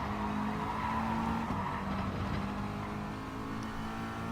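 A McLaren GR4 race car engine in Gran Turismo Sport drones steadily and loudly, with a sustained tone that shifts pitch as gears change early, alone without talk.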